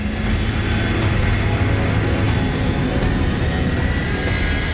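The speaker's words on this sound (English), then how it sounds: "there was a sudden change in the noise, and it was the first Vulcan starting" A loud, steady roar of Avro Vulcan bomber jet engines starting fills the clip, a dense rumbling wash that holds constant without a break.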